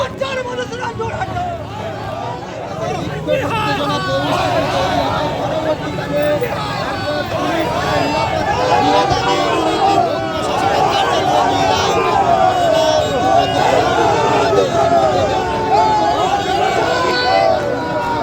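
A dense crowd of protesters fills a road blockade in Arambagh, angered by chants against a BJP MLA outside the SDO office, with overlapping voices forming a steady, loud hubbub of shouting and chanting throughout.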